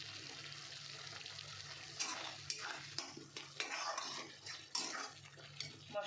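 Spice paste frying for a village-style raw jackfruit curry, with a soft sizzle under repeated close scraping and clattering strokes of a spatula stirring in the pot, and a low hum throughout.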